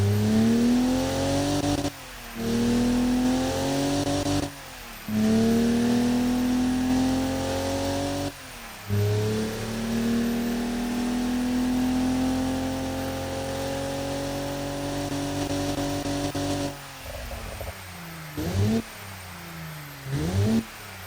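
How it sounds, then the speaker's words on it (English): A simulated Ford Barra 270T turbocharged inline-six in the Automation game revs repeatedly, its pitch climbing in smooth sweeps between short drops back to idle, loud and alone with no voices. "Listen to the turbo. It's giving that beautiful amount of boost at idle."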